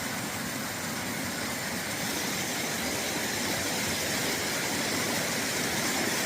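Rain hisses in a steady, dense wash during a scenic drive, with a faint engine hum beneath and no voices.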